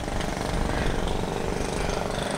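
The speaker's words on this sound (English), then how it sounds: "the jackhammers that were dealing with the jetty. They're repairing the jetty." Jackhammers breaking concrete while repairing a jetty in Speightstown, Barbados produce a dense, continuous pounding roar that fills the scene and stays loud and steady throughout, with no voices.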